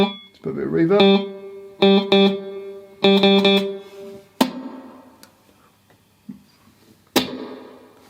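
Electric guitar through a Blackstar St James EL34 combo amp in 2-watt mode with reverb, playing clean chords and struck notes in bursts that ring out and decay with a reverb tail, close and moderately loud.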